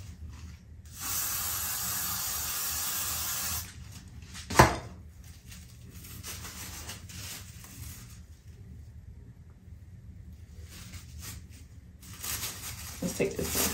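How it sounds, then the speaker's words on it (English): Several bursts of aerosol hair spray hiss onto loose 4C hair being wrapped around the root of a braid, with a bright, broad spray sound between roughly one and four seconds, followed by quieter handling noises. "So I'm just gonna spray the loose hair and wrap it around"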